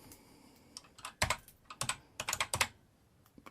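Keys clack on a BBC Micro Model B computer keyboard in quick irregular bursts of taps, close and fairly quiet, with short pauses between clusters and no voices.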